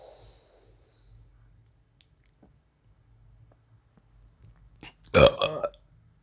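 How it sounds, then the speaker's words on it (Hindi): A single loud burp erupts near the end, a deep belch from a person practising a yoga hand mudra, preceded by quiet breathing and near silence. "ये डकार निकलनी स्वाभाविक है।"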